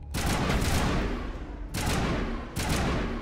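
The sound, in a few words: gunfire in video game Mass Effect Legendary Edition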